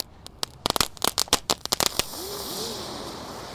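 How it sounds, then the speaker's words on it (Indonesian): Eight spinning ground fireworks (three-colour gangsing wheels) burn together on a Ramadan night: about two seconds of sharp, rapid crackling pops, then a steady close hiss with wavering whistles rising and falling. "ada gangsing super 3 warna atau roda gila. Ini kita nyalakan 8 sekaligus guys."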